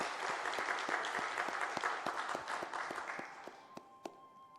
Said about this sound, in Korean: 우리 박수 한번 감사의 마음을 전하도록 하겠습니다